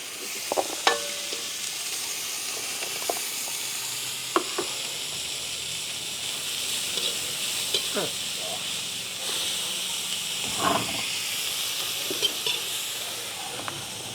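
Continuous hissing sizzle of food frying in a pan, with occasional scrapes and clinks of stirring.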